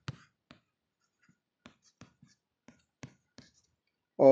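A pen scratching on paper while writing out a Sanskrit exam answer, sparse short strokes spaced across the quiet, faint and close, ending with a voice starting to speak.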